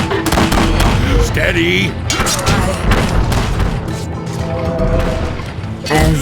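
Cannon fire in the real-time strategy game Battle Realms during a 2v2 match: repeated heavy booms and crashing impacts pile up through a dense battle din, with brief unit voice responses spoken over it.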